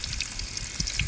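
Shrimp fry in hot oil in Oman's heat, giving a short steady sizzle with small crackling pops, near and with no voices.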